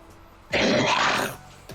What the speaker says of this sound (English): I've been just coughing and sneezing all day